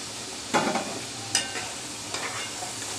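Half-fried french fries in hot oil in a wok, a continuous sizzle broken by a few brief stirring scrapes and clatters, with no voices.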